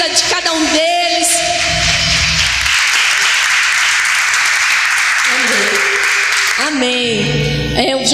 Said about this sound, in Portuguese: Aplaude o Senhor pela vida de cada um deles.